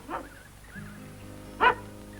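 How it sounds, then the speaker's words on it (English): A mongrel dog barks twice, a short bark near the start and a louder, sharper one about a second and a half later, with a low steady hum underneath. "Hey, what about that dog? You get that dog up here."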